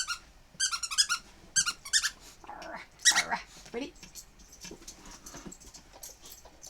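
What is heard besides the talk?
small dog growling while playing with toy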